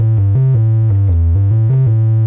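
An Arturia MiniBrute analog synthesizer playing a triangle wave tone, a loud, smooth, hollow low melody of short stepped notes that change pitch every fraction of a second, heard alone.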